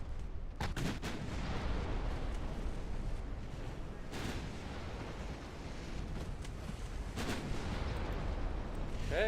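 Large 9-inch main naval guns firing in a naval battle game, a few heavy booming blasts spaced several seconds apart over a dense, rumbling background of battle noise.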